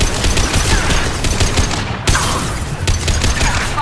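Dense rapid gunfire rattles in the video game Mass Effect 2, loud and continuous sustained bursts with a brief break midway.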